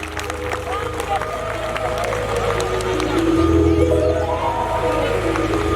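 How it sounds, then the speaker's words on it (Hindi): A crowd claps and cheers amid a noisy hubbub of voices at a religious jagran at a temple in Muklan, with music and talk going on underneath, loud and continuous. "एक बार सारे ताली बजाओ, जोरदार ताली बजा दो"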